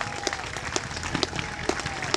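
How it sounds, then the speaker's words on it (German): Applause from a crowd at a cafe racer motorcycle meet and race event greets a racer, scattered claps rising and falling at moderate distance, with a voice talking over it. "Applaus, Applaus."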